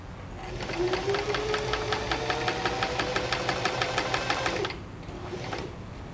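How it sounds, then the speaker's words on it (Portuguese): A sewing machine chain-pieces orange patchwork blocks in a rapid, even rhythm of stitches, close and steady for about four seconds before slowing to a softer hum. "Ó, continuo costurando na sequência."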